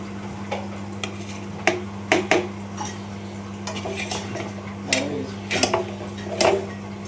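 Chowmein being stirred and mixed with carrot and cucumber, with repeated clinks and taps of a utensil against a dish, irregular and close, over a steady low hum.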